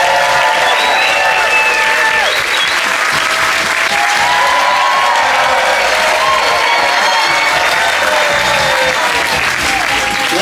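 Loud, sustained applause with some cheering from a comedy show audience at The Center for the Arts in Grass Valley, California, filling the whole stretch steadily without a break.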